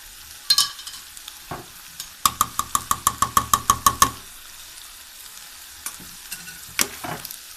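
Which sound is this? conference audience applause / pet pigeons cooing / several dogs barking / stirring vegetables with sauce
stirring vegetables with sauce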